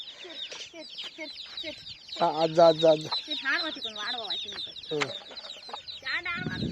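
Several chickens cluck and squawk nearby in agitated, overlapping bursts at a shepherds' camp as a dog is about, with a voice speaking among them.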